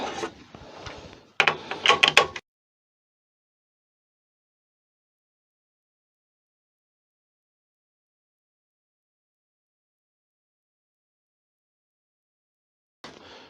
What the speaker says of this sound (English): Right, so I'll drill this and we'll get on with this.